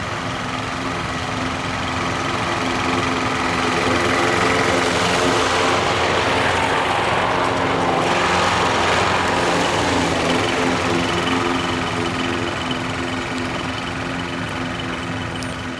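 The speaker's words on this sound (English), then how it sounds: "we're each going to use the mowers and we're going to see which one we like best" Lawn mowers running continuously and loudly throughout, a steady engine drone that swells slightly in the middle before easing off, with no talking.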